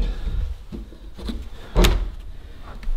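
A hidden secret door in an abandoned mansion being pushed closed, with a dull wooden thud and scraping, heard close in a reverberant room.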